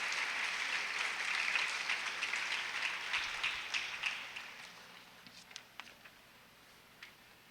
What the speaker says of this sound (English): give your family members a big round of applause